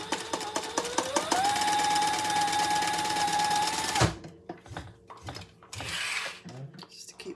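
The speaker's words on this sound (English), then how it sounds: "now we're just going to stitch across the short ends" A sewing machine runs a steady stitching run across the short ends of a fabric crossbody bag for about four seconds, then stops abruptly, leaving quieter handling sounds.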